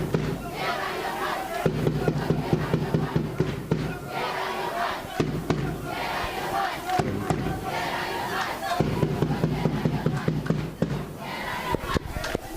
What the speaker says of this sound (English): The Kingswood crowd in full voice here